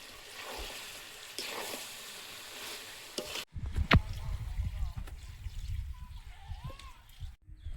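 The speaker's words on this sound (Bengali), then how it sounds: "মাংস থেকে তেল ছেড়েছে, এবার জল দেবো।" Chicken curry frying in oil gives a steady broadband sizzle; when water is added partway through, the sound changes sharply to a louder, rougher bubbling and hissing that carries on to the end.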